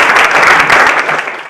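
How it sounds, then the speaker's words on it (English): Audience applause welcoming Luke Coutinho at a health talk, a dense burst of many hands clapping close and loud that fades out near the end. "can we give him a big round of applause?"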